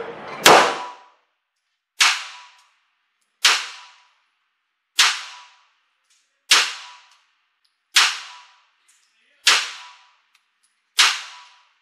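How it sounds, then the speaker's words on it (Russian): Eight Walther P1 pistol shots fired one-handed at an indoor shooting range, sharp loud cracks spaced evenly about one and a half seconds apart, each with a short decaying echo, no talking. "Все еще стреляю одной рукой."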